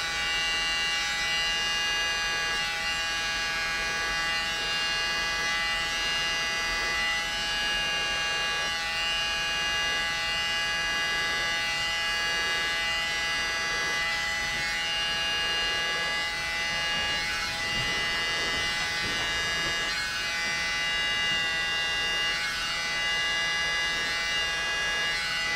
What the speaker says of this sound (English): grab our little mini blower and blow it out